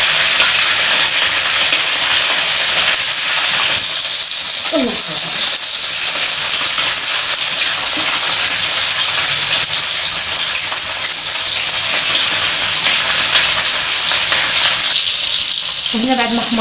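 Crispy fried sardines cook in oil in a pan with a loud, continuous sizzling hiss, and a voice comes through briefly at a couple of points.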